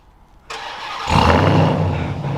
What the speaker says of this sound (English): This truck has remote start, so if I double tap the lock button and then double tap that button